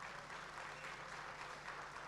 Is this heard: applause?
yes